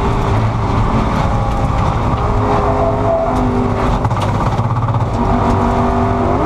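Race car engine at Spa during a big on-track moment: a loud, sustained high-revving roar with shifting pitch as the car accelerates and the revs rise and fall, heard from close by.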